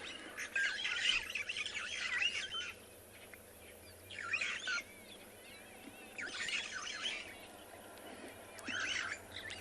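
Starlings calling around a dam in an African safari setting, bursts of chattering, squawking calls returning every couple of seconds at moderate distance over a quiet outdoor background.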